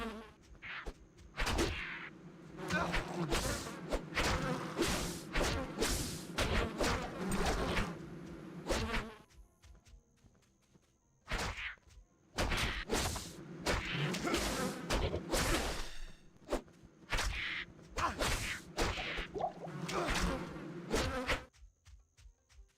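Bees swarm close by with loud, wavering buzzing in long bursts that drop to near silence for a couple of seconds midway before returning strongly, with no one speaking.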